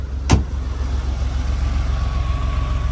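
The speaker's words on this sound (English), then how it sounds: "The car fires right up" A 1991 Porsche 964 Coupe engine running at a steady idle, a close, even rumble with a brief sharp click near the start.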